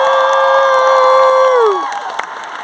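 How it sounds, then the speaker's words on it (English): Loud cheering and whooping from a comic convention crowd in London, with a sustained tonal vocal cheer that fades out after a couple of seconds into lighter scattered noise. "I think that needs one more round of applause."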